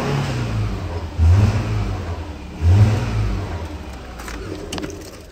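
The 2.5-liter engine of a 2010 Subaru Impreza automatic with 87,000 miles revs twice in quick throttle blips over a steady idle, recorded close by with no talking.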